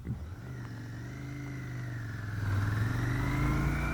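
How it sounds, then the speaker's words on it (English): A Royal Enfield Interceptor 650 motorcycle engine idles close by with a steady twin-cylinder thrum, then the revs rise and settle into a stronger, fuller idle, with no voices. "Immediately it's idling far stronger and far more steady than it was before."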